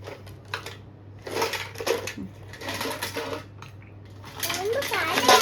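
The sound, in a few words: child playing with kitchen utensils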